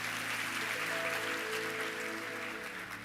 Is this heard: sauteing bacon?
no